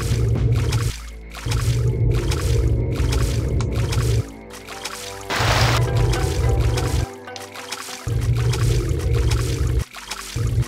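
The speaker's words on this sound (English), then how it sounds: "I hate the water so much in this game." Loud, continuous water sounds in the game Deus Ex, with synthetic sloshing and flowing, broken by abrupt cuts and a short splashy burst midway.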